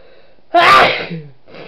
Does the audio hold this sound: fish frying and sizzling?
no